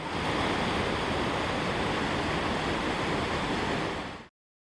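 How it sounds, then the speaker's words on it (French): A steady, dense roar of falling water at Ryuzu-no-Taki waterfall near Lake Chuzenji in Nikko, Japan, in winter, fills the clip evenly, close and loud, then cuts off abruptly near the end. "La deuxième cascade est la cascade de Ryuzu-no-Taki"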